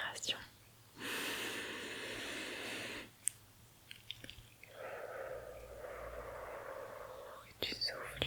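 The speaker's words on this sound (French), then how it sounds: "Tu prends une grande inspiration." A deep breath drawn in slowly and close during a relaxing after-hike massage, lasting a couple of seconds, followed by a long, soft, breathy exhale in a quiet room.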